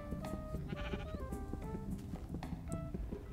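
Sheep in the Minecraft video game bleat several times in quick, wavering calls, mixed with game music and clicks, steady and fairly close throughout.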